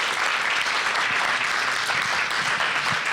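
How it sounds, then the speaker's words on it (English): Sustained audience applause for a media panel at a chamber of commerce roundtable, dense and even clapping filling a room, steady throughout without voices. "Can we have another round of applause for our panel?"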